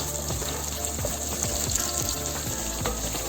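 Garlic frying with softened onions in a pan for achari hari mirch keema, a steady close sizzle running without pause and with no talk.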